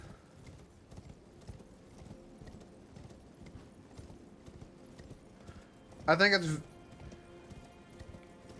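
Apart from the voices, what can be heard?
horse Torrent galloping hooves, Elden Ring Shadow of the Erdtree video game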